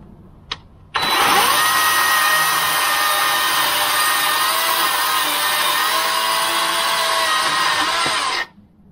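A chainsaw with a dull chain cuts logs: after a brief click it bursts into a loud, steady, close-up whine that holds for about seven seconds and then cuts off.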